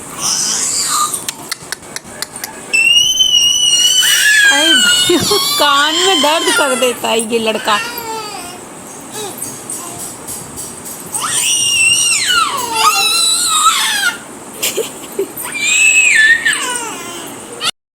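A young child screams loudly and shrilly at home, with repeated piercing, wavering shrieks in several bursts, while someone speaks in between.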